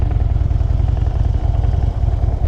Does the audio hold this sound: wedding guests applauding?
no